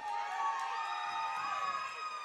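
Crowd at a women's high school basketball game between Harlingen and Los Fresnos cheering and whooping, a sustained bright roar of many voices holding steady throughout.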